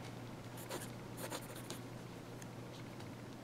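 Amazon Basics fountain pen nib scratching across paper in short strokes and quick scribbles, faint and close, over a low steady background hum.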